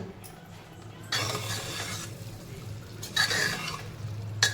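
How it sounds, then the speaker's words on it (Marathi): Soy chunks and green peas sautéed briefly in a pan for a pressure-cooker pulao, with a low stirring scrape and short bursts of sizzle, alone and close, no talk. "आपल्याला कुकरला लावायचं म्हणून जास्त शिजवत बसायचं नाही. थोडंसं परतून घ्यायचं."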